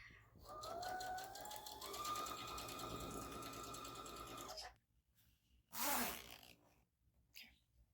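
Sewing machine stitching a duffel bag, a rapid whirring mechanical run for several seconds that stops, followed by a short sharp burst and a few quieter handling sounds.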